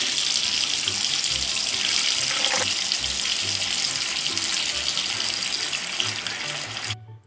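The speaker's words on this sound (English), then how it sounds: "Let's get the water ready for Elsa" Steady rush of tap water filling a bathtub with jets, a continuous broadband splash that runs evenly throughout, loud and close, cutting off abruptly at the end.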